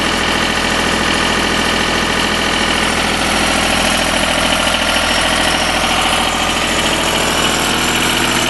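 A diesel engine on a Deutz generator set runs at a steady idle, a loud, even rumble with a constant vibrating drone that lasts throughout without any voices.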